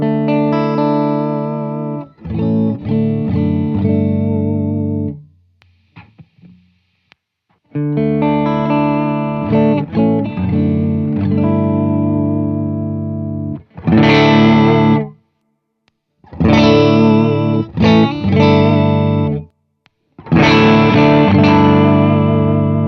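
Electric guitar played through an ACS1 amp simulator, switching between Fender-style and Vox-style presets: sustained chords and riffs with light drive, separated by short silent gaps and ringing clearly with no talking.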